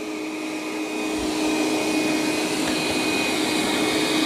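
Dreame D10 Plus and Eufy X8 Pro robot vacuums running on turbo maximum suction, a continuous loud whooshing roar with a steady high whine, stepping up slightly in intensity early on and holding constant.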